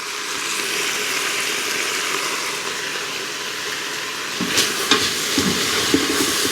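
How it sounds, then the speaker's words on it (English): Sliced mushrooms sautéing with onions in an Instant Pot for beef stroganoff, giving a steady loud sizzle with a few stirring clinks near the end. "we're going to start sauteing those with the onions"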